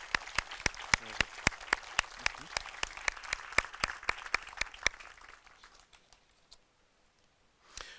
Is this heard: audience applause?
yes